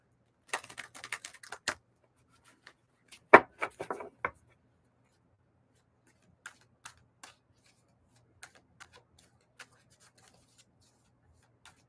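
Tarot cards: a quick, rapid riffle, then a few more brisk flicks, followed by scattered soft taps and clicks in otherwise quiet surroundings.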